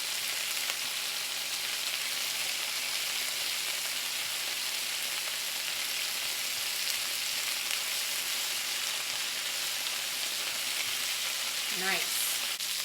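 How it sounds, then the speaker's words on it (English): Oxtails sizzle steadily as they brown in a frying pan for a Jamaican-style oxtails and beans dish, a continuous close hiss with faint stirring toward the end. "So the browning process is now complete."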